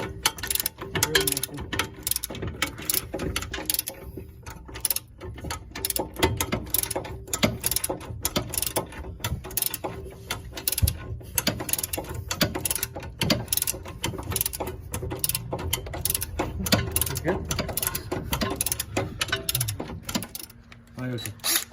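A wrench works on the brake caliper bolts of a Dodge Charger RT during a Brembo brake swap, producing rapid, continuous ratcheting clicks close up for the whole stretch.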